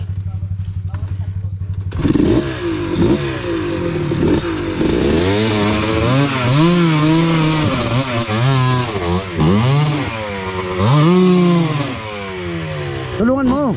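A motorcycle engine on a dirt trail idles, then revs hard in repeated rising and falling bursts, close and loud, with people talking over it.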